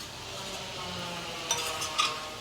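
Tender tamarind leaves fry in a pan, a steady soft sizzle close by with a couple of sharp spoon-on-pan scrapes and clinks as they are stirred, no talking.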